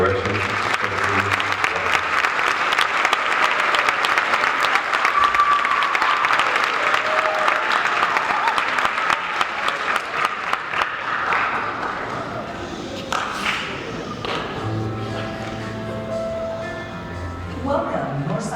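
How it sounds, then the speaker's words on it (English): Audience applause at a school band winter concert, a loud, dense wash of clapping that gradually thins and fades, with voices and cheers emerging as it dies down. "let's give a round of applause to our award-winning percussion studio"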